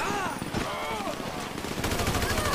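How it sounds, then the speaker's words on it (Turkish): Rapid automatic gunfire in a GTA 5 riot mode, bursts of shots crackling over a dense in-game street din with music-like tones, loud and close throughout. "Kim vuruyor lan sen oradan?"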